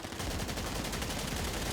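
Rapid gunfire bursts in a GTA roleplay game, a dense run of quick shots crackling nearly nonstop at moderate loudness with no talk over it.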